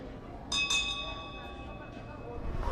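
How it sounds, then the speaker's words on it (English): A ringing bell marks the last lap at a national track cycling championship, with two bright struck tones early on that decay over a noisy crowd and venue background. "So Marissa Sonapu with 1 lap to go, as you heard the bell."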